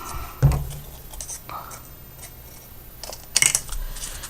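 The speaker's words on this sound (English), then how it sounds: "we're going to get another strip, and we're going to cut it down" Scissors snip through a paper strip for a handmade card box, a short crisp cut near the start and another brief burst later, with quiet rustling in between.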